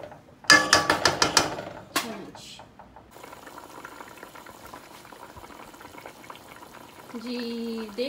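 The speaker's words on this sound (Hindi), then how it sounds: "हमारा पानी अच्छी तरह से बॉयल हो चुका है।" Water bubbling at a boil in a pot for chicken pulao, a soft steady simmer under a few sharp metallic clatters and scrapes near the start and a brief tonal whine near the end.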